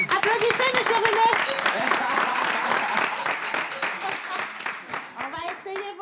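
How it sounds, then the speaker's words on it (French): Several people clap in a small gathering before Cameroonian dances are played, a close, uneven round of hand claps with voices talking and calling over it throughout. "Applaudissez"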